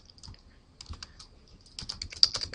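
Quick bursts of keystrokes clatter on a computer keyboard, short runs of light clicks with small pauses between them, close and fairly quiet.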